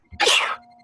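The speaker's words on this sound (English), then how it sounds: "Good job with our Dracula sneeze." A single sharp sneeze, a quick intake then a loud burst of breath, close up and brief.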